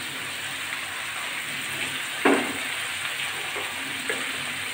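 Lauki and potato being fried together in oil in a pan for a tilapia curry, a steady close sizzle with one sharper crackle partway through and a faint clatter later.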